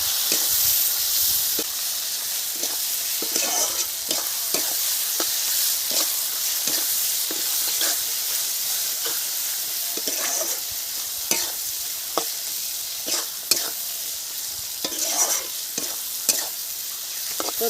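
Prawns frying with ginger-garlic paste, chopped tomato, salt, turmeric and chili powder in a pan, under a continuous loud sizzle broken by frequent quick scraping stirs, with no one speaking.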